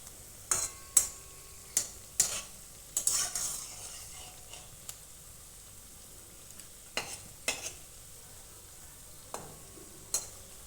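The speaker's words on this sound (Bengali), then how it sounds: "এগুলো প্রথমে একদম গরম তেলে দিতে হবে, তারপরে গ্যাসের দমটা কমিয়ে দিতে হবে।" Semolina balls fry in very hot oil with a soft background sizzle, punctuated by sharp metallic clinks and scrapes of a utensil stirring, spaced irregularly and close to the pan.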